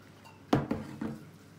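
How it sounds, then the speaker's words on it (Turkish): Water splashes and drips as thin yufka pastry sheets are wetted in a kitchen, three short wet taps and splashes close by, fairly quiet, with no talking. "Şöyle suyla bir yufkalarımızı bir ıslıyoruz."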